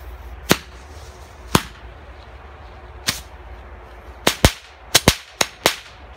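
Small Knallfrosch firecrackers pop one after another: about nine sharp, fairly faint cracks, spaced out at first and then bunched in quick succession near the end, with quiet outdoor background between them.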